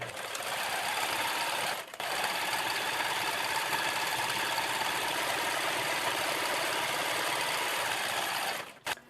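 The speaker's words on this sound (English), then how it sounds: "I'm just going to sew a 5/8 inch seam allowance or just a regular seam allowance" A serger stitching a seam in lining fabric runs at a steady, even hum for several seconds, pauses briefly, then runs again before stopping near the end.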